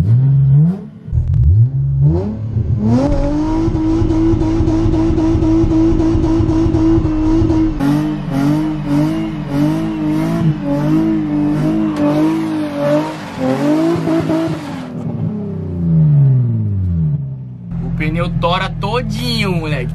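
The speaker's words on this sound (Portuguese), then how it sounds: "Vamos fazer um burnout parado." Stationary burnout in a car held in place: engine revs hard and holds high, tires spinning and squealing in a sustained roar, with a brief drop and rev-up near the end while people talk over it.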